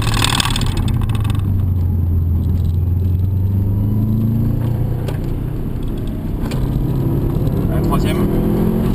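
A Subaru accelerates hard on a track, its engine note climbing steadily through the gears with a loud, close, continuous roar while an instructor talks over it.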